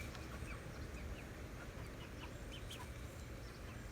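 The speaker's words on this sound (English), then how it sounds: "Chickens are raising sand today." Chickens clucking faintly in the distance, scattered soft calls over a steady broadband outdoor background with no talking.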